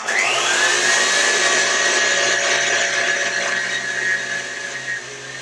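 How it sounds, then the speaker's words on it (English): Electric whisk whirring loudly and continuously through an ice cream base while powdered sugar goes in, the high motor whine holding steady before easing off slightly toward the end. "I'm going to keep the whisk going, but I'm going to slowly add our powdered sugar"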